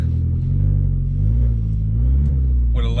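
A 2005 Audi A4 Quattro engine idles with a deep, throaty rumble from a loud exhaust, rising and falling slightly, before a brief high tone cuts in at the end.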